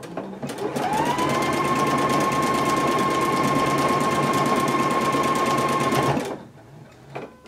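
A Husqvarna Viking Epic 980Q sewing machine stitches in reverse, a fast steady whirring hum with a rapid needle rhythm running about five seconds before stopping abruptly, close and loud.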